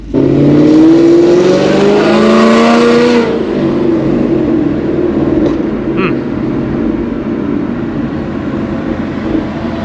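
A Ford Mustang S550 V8 engine revs loudly, then drops through a downshift and settles into a deep rumbling idle, close by and without talk.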